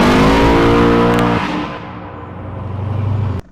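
A street-driven Camaro ZL1 making over 1,000 horsepower revs hard, its engine climbing loudly before the throttle drops off into a lower rumble that swells again, then cuts out sharply.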